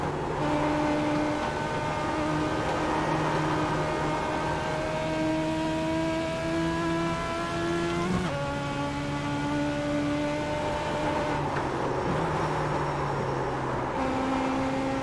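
A race car engine in the iRacing sim, held in third gear and revving hard, drones steadily with clear harmonic tones that climb and then drop at gear or throttle changes, loud and continuous with no talking.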